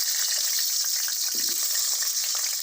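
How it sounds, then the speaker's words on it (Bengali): Cut potatoes frying in hot oil in a pan, a steady close hiss and crackle of sizzling with no talk, plus one brief scrape or clink partway through. "আলুটাকে লাল করে ভেজে নেব।"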